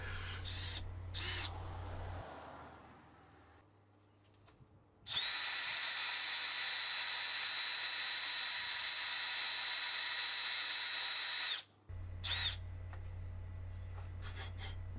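A power drill with a blunt bit grinds steadily for several seconds, straining with a high whine, preceded and followed by shorter bursts of drilling and motor hum.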